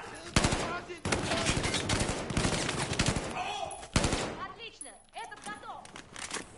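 Rapid bursts of automatic gunfire from shooting in Battlefield 4, set in Singapore, loud and close, with a dense volley that fades near the end into scattered shots and game sounds.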